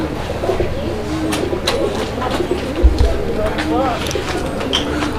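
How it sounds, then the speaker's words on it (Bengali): A pair of Putul Gorra pigeons coo repeatedly at close range, with scattered chirps, flutters and background chatter from people nearby. "এখানে এটা হচ্ছে মূলত আপনাদের গররা কবুতর একটা জোড়া, পুতুল গররা"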